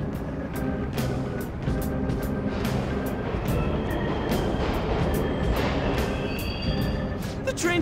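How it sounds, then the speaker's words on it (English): Subway trains run continuously through a station in the video game Persona 5 Royal, a loud steady rumble with rhythmic clacking of wheels over rail joints and a faint high squeal near the end. "The trains are totally running!"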